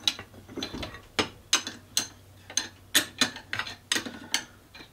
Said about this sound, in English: get a torque wrench in here, click.